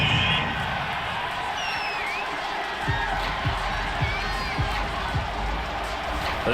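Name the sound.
home crowd cheering in the video game Madden NFL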